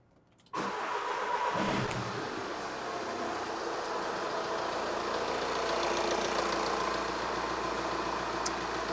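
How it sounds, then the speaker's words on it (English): A car engine cranks and catches just after a brief quiet start, then settles into a steady, close idle that runs on without talk. "we can turn on the ignition or start the vehicle"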